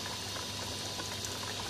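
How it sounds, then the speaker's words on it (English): An air-driven airlift filter in a backyard aquaponics system in Townsville, lifting water into Dacron filter media over gravel, bubbles and gurgles steadily up close. It forms a dense, continuous fizzing wash with no voices. "Runs on air, pumps water up into the Dacron."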